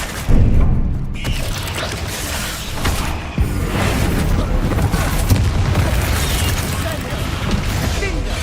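Spells such as Bombarda, Confringo and Incendio cast in the Hogwarts Legacy video game produce dense, continuous booming blasts and mechanical clanks, loud throughout, with a voice talking over the effects.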